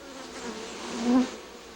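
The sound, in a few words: honey bees buzzing in a hive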